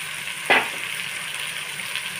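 Fried mirka fish dropped into sizzling oily spice paste in a pan, a sharp hiss burst at the moment they go in, then a steady close sizzle continuing underneath.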